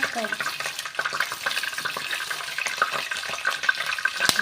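Cumin seeds hit hot oil in a pan and sizzle steadily with a bright, hissing crackle. Scattered pops and a stirring rustle sit close by, and a voice speaks briefly underneath.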